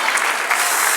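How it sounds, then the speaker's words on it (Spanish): Church congregation claps during a Spanish-language sermon, a dense, loud burst of applause that fills the whole brief moment without pause. "Denle un aplauso al que reina."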